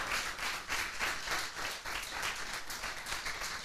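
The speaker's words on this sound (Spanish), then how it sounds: "Denle un aplauso al Señor por eso." Church congregation clapping during a Spanish-language service, a rough, rapid roar of many hands rising and falling in waves, somewhat distant and muffled, with no speech over it.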